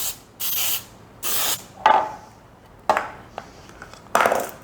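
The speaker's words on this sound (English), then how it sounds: "I'm going to use the spray that has the flour already on it." Baking spray with flour is sprayed into a loaf pan for banana pecan bread in short hissing bursts, two long sprays followed by several quicker puffs and light clinks of the can and pan.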